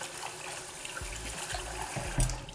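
Water running and splashing as rice is drained and topped up with fresh rinsing water, a steady faint trickle with a small splash near the end, no voices.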